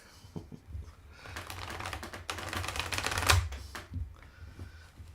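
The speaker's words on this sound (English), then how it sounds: "I'm going to try shuffling again here." Tarot cards being shuffled by hand, a dense run of papery riffling and clicking that builds to a loud burst midway, then settles into softer card taps, close up with no talking.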